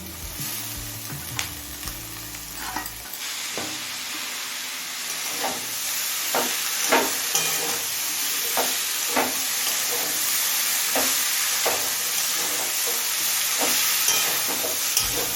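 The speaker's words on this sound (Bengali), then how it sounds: "আরও মিনিট দশেক লাউ খোসাটা ভেজে নিয়েছি" Bottle gourd peel and potatoes sizzle steadily in a hot pan, with a spatula scraping and clacking through them at irregular intervals; the hiss is loud and close, with no voices.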